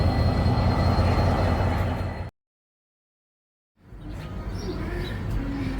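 The Coastal Pacific passenger train between Christchurch and Picton via Kaikōura gives a steady, close, low rumble that cuts out to silence for about a second and a half, then resumes slightly quieter.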